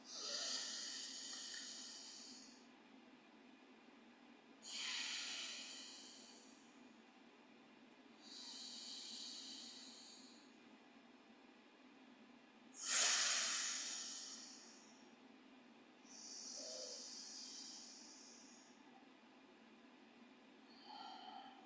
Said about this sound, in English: you'll do one more cycle until you exhale out the left nostril